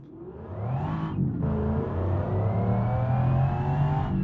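A 1960s GT car engine in the BeamNG driving game, revving up from idle into a steady, rising drone with a brief dip in pitch, moderately loud and heard alone.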